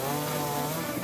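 A saw cuts through the trunk and branches of a fallen tree, giving a continuous, loud, close buzzing drone with no pauses.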